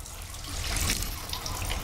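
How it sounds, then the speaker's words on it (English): Water runs and splashes from an overflowing sink onto a polished floor in the game Stasis, a soft, fairly quiet steady rush of trickling liquid with no voices. "Liquid from the overflowing sink has splashed onto the floor, pooling on the polished floor"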